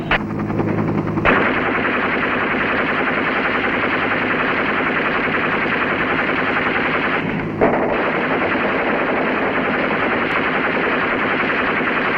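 Sustained, loud automatic weapons fire during a Vietnam War river patrol in the Mekong Delta, a dense rattling burst running almost unbroken with a brief pause partway through.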